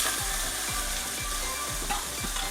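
Chopped okra fries in hot oil with black cumin for dherosh chorchori, a steady close sizzle broken by several soft rhythmic knocks of a spatula against the pan, with no voices.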